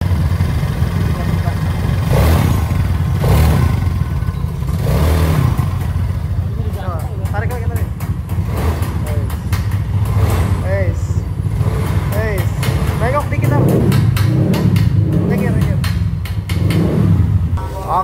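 An old Yamaha Mio Sporty scooter engine with a 58mm bore-up and newly fitted carburetor idles and revs unevenly with rattling clatter, while muffled voices talk over the running motor.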